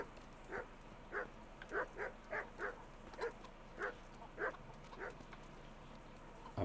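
A dog in the medieval video game Kingdom Come: Deliverance barks repeatedly at a steady, moderate pace, about a dozen short woofs heard at mid distance over a faint ambient bed, with no talking.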